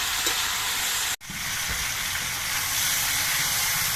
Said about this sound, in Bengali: সবজিগুলো কিছুক্ষণ ভেজে নেওয়ার পর সবজি থেকে যে জলটা বেরিয়েছিল সেটা শুকিয়ে গেছে আর সবজিগুলো অনেকটা ভাজা হয়ে গেছে